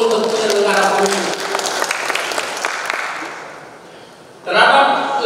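An audience at an awards ceremony for election organizers breaks into applause, a dense clapping that fades out before a brief second burst near the end; a voice talks over the start.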